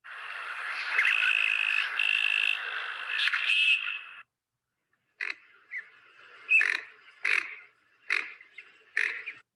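Recorded calls of winter waterfowl in South Carolina: a long rasping, frog-like croak runs for several seconds, then after a pause comes a series of short, grunting, pig-like bursts, all fairly close and clear with no talking.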